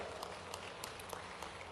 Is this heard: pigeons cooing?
no